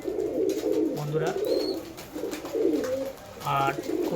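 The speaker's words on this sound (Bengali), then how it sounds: "এই যে আমার পায়রাগুলো এগুলো সব আমার বিডার পায়রা।" Breeder pigeons cooing in a loft, several soft throaty coos repeating at intervals, fairly close, with a voice speaking intermittently over them.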